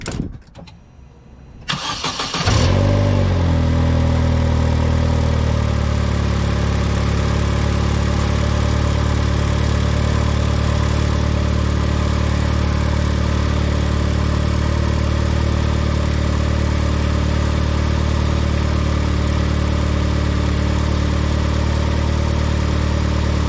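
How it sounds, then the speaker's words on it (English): A Vauxhall Corsa VXR with a freshly replaced exhaust flex pipe fires up after a brief crank and settles into a steady, loud idle that runs close to the microphone for the rest of the clip, with no talking. "we'll start it back up there and make sure we're still not blowing on anything"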